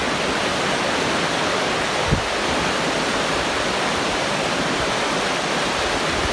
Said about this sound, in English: there she is, the North Umpqua River right behind us